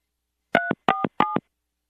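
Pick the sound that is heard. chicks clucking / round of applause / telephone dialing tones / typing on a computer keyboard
telephone dialing tones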